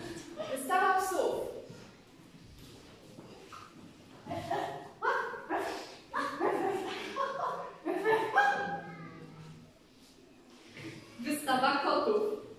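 Several people in a theatre diction exercise imitate dogs, yipping and barking in short voiced bursts that mix with speech-like sounds, coming loud and close over about twelve seconds.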